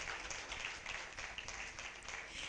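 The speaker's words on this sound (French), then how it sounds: "Merci de les applaudir" Diners at a school competition gala dinner applaud, a quiet, fairly distant patter of many hands clapping steadily for a couple of seconds.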